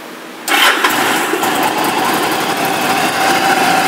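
A red and black 2005 Yamaha V-Star 1100 Silverado motorcycle fires up on choke with a sudden loud catch, then settles into a close, steady, rumbling idle with no talk over it.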